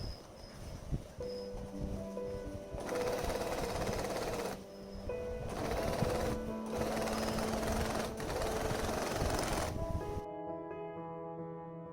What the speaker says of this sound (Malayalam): എന്നിട്ട് ഈ ഡിസൈനിലുള്ള അതേ നെക്ക് ലൈനിലൂടെ തന്നെ തയ്ക്കുക.